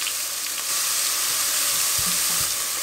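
Onion and crushed garlic fry in olive oil in a pot over medium heat, giving a loud, continuous sizzle up close with a few soft low knocks toward the end and no talking.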